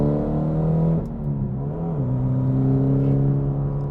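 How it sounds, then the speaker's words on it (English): A Mitsubishi Lancer Evolution X engine runs loud and close, holding a steady drone that dips briefly and then pulls again in a rough, uneven acceleration, as if misfiring on one cylinder. "So let me slow down and accelerate again. It's like we lose a cylinder or something"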